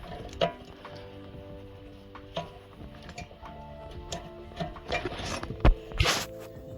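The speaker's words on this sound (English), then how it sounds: "We're just going to unplug these 4 plugs kind of carefully." Electrical connector plugs being unplugged from a car's factory ECU on a Subaru Legacy, with scattered close clicks and small plastic snaps and tapping, ending in a couple of sharper clacks.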